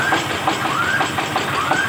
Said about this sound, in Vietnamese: bây giờ sẽ thử máy nghe rất êm nha